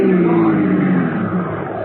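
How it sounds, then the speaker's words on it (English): A car engine roars steadily and loudly close by, a continuous mechanical drone with a slight rising pitch. "Now, run his car into the curb"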